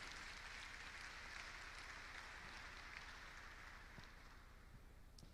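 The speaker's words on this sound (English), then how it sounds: "Please keep clapping." Sustained, dense applause from a seated audience at a university convocation lecture, a steady far-off wash of many hands clapping at even loudness throughout, with no voices standing out.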